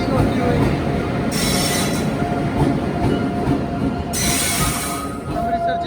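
The Gurumukhi Superfast Express, running from Nangal Dam to Kolkata, rolls loudly into a railway station with a heavy, continuous rumble of wheels and carriages, bursts of hissing brake noise, and faint voices underneath.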